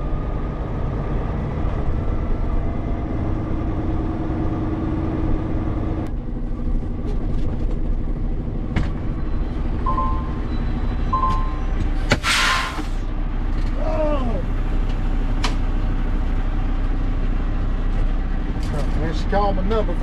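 A truck engine drones steadily on the road from inside the cab, a constant low rumble with occasional clunks and a brief hiss, while people talk over it at times.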